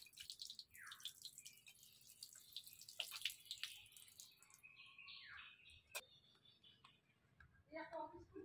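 Tap water runs and splashes while hilsa fish are washed in a home kitchen, with scattered drips and clatter and birds chirping nearby in the background.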